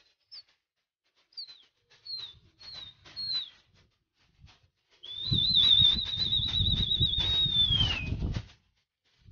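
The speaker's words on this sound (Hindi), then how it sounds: "बहुत बढ़िया चल रहे हैं भाई के कबूतर" Pigeons kept by a fancier take to the air with a few sharp whistle-like notes followed by a sustained burst of fluttering wingbeats and a long whistled tone lasting several seconds, fairly close.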